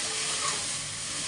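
Marinated mutton sizzles steadily in a hot pan while being stirred together with the masala, a continuous close frying hiss with no pauses.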